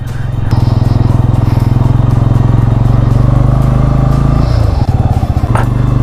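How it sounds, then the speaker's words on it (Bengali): A motorcycle engine rumbles loud and close with a steady throbbing idle-like pulse on a mountain road ride in North Sikkim, with a brief dip in engine note near the end. "তো বাইক চালিয়ে যাচ্ছি সারাদিন পাহাড়ে"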